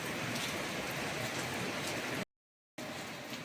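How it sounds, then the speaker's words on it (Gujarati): Heavy rain pours down in a dense, steady roar, interrupted by a brief moment of total silence before the downpour resumes. "એટલો બધો વરસાદ આવે છે"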